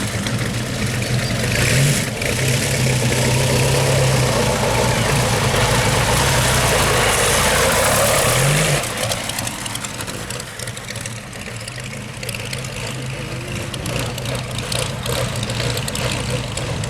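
A vintage car's 8.2-litre Curtiss aero engine rumbles at idle, loud and close, with a couple of brief revs before settling back to a lower, uneven throb.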